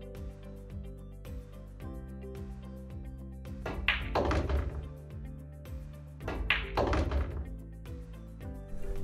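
A pool cue strikes billiard balls while a player runs a rack, giving sharp, close clicks and knocks spaced through the shots, with a couple of busier bursts of ball contact and rolling.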